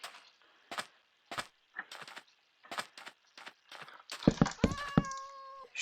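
Cats meowing in the video game Minecraft: several short, soft meows scattered at an uneven pace with gaps between them, followed near the end by a louder cluster of tonal sounds.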